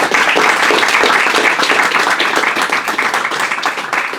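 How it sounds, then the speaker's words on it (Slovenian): Loud, dense applause from an audience at a commemorative lecture in Trieste, continuous clapping sustained evenly at close range without a break. "Najlepša hvala in aplavz."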